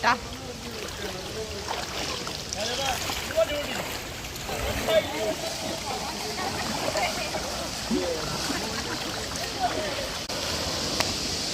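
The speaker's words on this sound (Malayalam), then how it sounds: "ഗൈസ് ഞാനും ഇവിടെ വെള്ളത്തിൽ കൂടെ നടക്കാൻ" Someone wades through shallow floodwater on a heavy rainy day, steady rushing water and light splashing continuing under close talk from the person walking.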